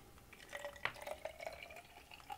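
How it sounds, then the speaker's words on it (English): Water poured from a container into a small bottle while making homemade glow sticks, giving a quiet trickling fill with light drips and glassy plinks, close by and faint. "So I'll pour some water in."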